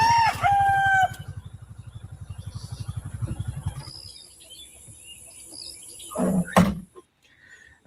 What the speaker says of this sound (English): You can hear these meat chickens are starting to crow.